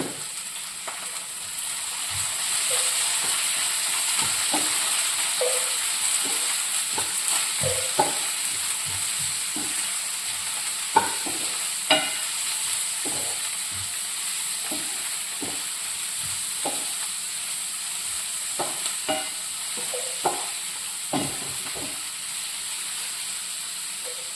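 Onions sautéing with salt in a pan, a steady close sizzle with frequent scraping stirs and clinks scattered throughout.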